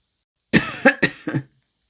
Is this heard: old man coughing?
yes